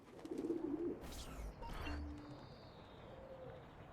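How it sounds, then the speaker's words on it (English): Pigeons gather at a coop in Assassin's Creed II, a short burst of low cooing up front followed by faint, sparse coos and a couple of mechanical clunks and whooshes, no voices. "Here we are, pigeon coop."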